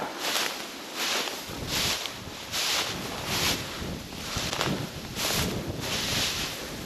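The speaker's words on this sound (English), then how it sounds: "Just a little windy" Wind gusts across an open grass field during an Iowa pheasant hunt, a broad rushing hiss that swells and eases in rhythmic waves, with rustling close by and no talk.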